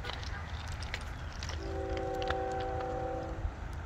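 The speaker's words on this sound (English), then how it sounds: "You guys hear that? That's the train." A Florida East Coast freight train rumbles steadily close by and sounds a sustained multi-tone horn blast of nearly two seconds over the continuous rolling noise.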